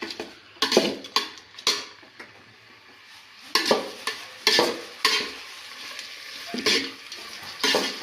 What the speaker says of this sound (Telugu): ఉల్లిగడ్డ మంచి ఎర్రగా గోలాలి